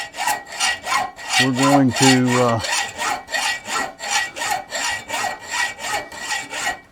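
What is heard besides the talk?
hacksaw cutting off stock by hand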